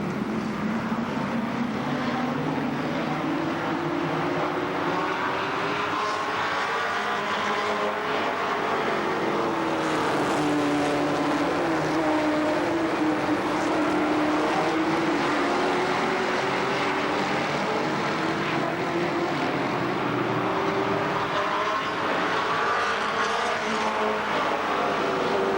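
Race cars lap the Columbus Motor Speedway oval in a loud, continuous engine roar that rises and falls as the field passes, with no break across the whole stretch.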